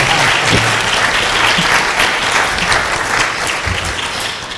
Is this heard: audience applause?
yes